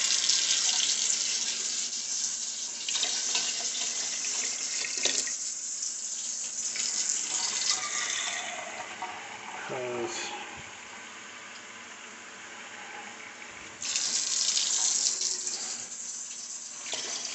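Tap water runs from a faucet to fill cans for a pot of chili, a loud steady rush that cuts out for a few seconds and then starts again, close by and with no voices.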